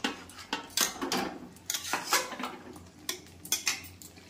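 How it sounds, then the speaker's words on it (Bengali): Yogurt is stirred into a chicken marinade for kadai chicken, a spoon knocking and scraping against the bowl in irregular clinks and taps, close and fairly clear with no talking. "টক দইটা দিয়ে এবারে আমি এটা ভালো করে মিশিয়ে নেব"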